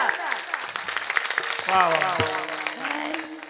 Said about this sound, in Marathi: जोरात टाळ्या द्या एकदा